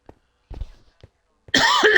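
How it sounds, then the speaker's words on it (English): Several short, sharp coughs come in quick bursts with pauses between, then a longer, harsher coughing fit, close and loud. "If I keep coughing like this"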